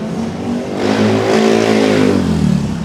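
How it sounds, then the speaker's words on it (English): Street traffic in the Philippines as a car accelerates past, its engine note rising and swelling loud and close for a couple of seconds before easing, over a steady hum of other vehicles. "watching the traffic and the passers-by"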